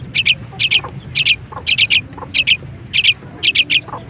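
A small bird chirps in quick paired bursts, repeating steadily every half second or so, close and fairly loud over a low background hum.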